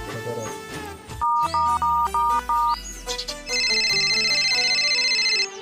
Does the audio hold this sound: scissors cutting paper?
no